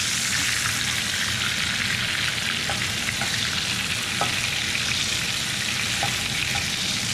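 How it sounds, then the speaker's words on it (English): Short rib is basted with a wooden spoon in a hot pan, producing a loud, continuous close-up sizzle with a few faint spoon clicks and no talking. "Gonna baste it."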